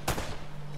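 A single loud, close burst of gunfire from a trap in the video game Uncharted cracks out and then fades into a low, steady hum, with no talk.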